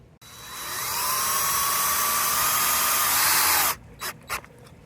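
A power drill whines steadily at high pitch while driving self-tapping screws into a pre-drilled aluminum flag pole, running for about three and a half seconds before stopping, followed by a couple of brief clicks.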